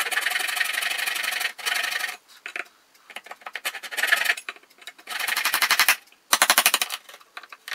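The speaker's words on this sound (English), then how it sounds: "now I'll see if I've carved away enough" Hand carving of a guitar's slotted peghead to make room for the truss rod adjustment. Close, rhythmic rasping strokes come in bursts separated by brief pauses, with no talking.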